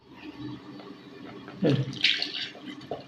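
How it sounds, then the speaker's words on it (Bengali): About half a kilo of milk poured into a pan of sweetened chana halwa, a short close splashing gush of liquid that swells midway, then trails off. "প্রায় আধা কিলো দুধ আমি এর মধ্যে দিয়ে দিলাম।"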